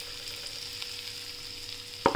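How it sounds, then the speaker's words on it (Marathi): Ground spice paste frying in oil in a pan for a spicy red pumpkin bhaji, a steady close sizzle throughout, ending with a sharper burst of sizzling or stirring. "आपला मसाला वाटून झालाय, आपण आता हा तेलात परतून घेऊ"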